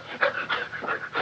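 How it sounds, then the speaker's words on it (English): A man panting hard in a 1941 film scene, a run of quick, rough, breathy gasps in an uneven rhythm, close and fairly loud with no talk over it. "What are you breathing so hard for?"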